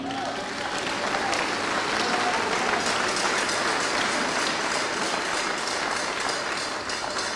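A church congregation claps and cheers in praise at a sermon, dense sustained applause filling the space at steady loudness throughout, with crowd voices mixed in.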